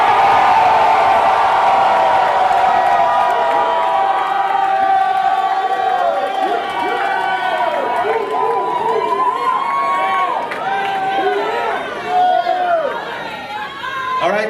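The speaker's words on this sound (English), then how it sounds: "They cheated because they screamed louder and longer." A crowd at a gospel concert cheers, whoops and screams in a sustained, loud roar that holds for many seconds with shrill individual shouts rising and falling across it.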